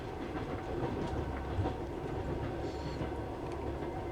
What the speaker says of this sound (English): it's a 13-hour train ride